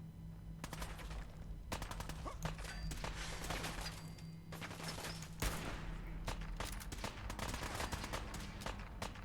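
Sniper rifle gunshots in the video game Fallout Equestria 4, a rapid run of loud, sharp cracks repeating throughout over a low steady hum, with no talking.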